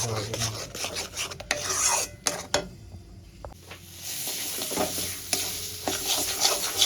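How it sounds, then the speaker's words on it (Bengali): Mustard and garlic paste sautéed with onions in a pan, a close, steady sizzle with continual scraping and rasping from the stirring spoon that rises and falls throughout. "সর্ষে আর রসুনের পেস্টটা দিয়ে এটা দিয়ে ভালো করে পেঁয়াজের সঙ্গে কষাবো"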